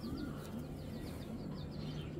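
Racing pigeons coo softly at a pigeon farm, their low, repeated calls overlapping against steady background noise, with a few faint chirps mixed in throughout.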